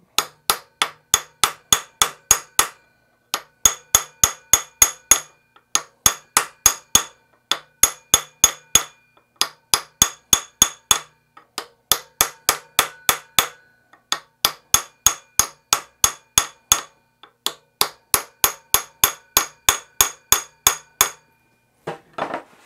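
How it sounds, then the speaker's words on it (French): A hammer gently taps a part out of an EQ6 equatorial telescope mount during a Rowan kit modification: many crisp, close metallic strikes in quick rhythmic bursts separated by short pauses, with no talking. "on va retourner avec le marteau ici, puis je vais délicatement taper pour le faire sortir."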